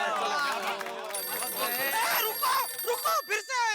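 A mobile phone rings under lively overlapping chatter from several people in a sitcom scene, the ringing tone sitting steadily behind the voices for a few seconds.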